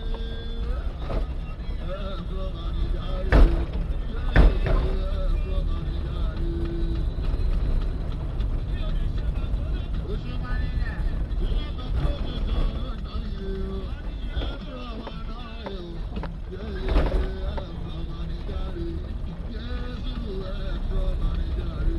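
A Mazda 626 drives over rough roads, its engine rumbling continuously as the body clanks and rattles with a few sharp bangs over potholes, while a voice talks over the noise throughout.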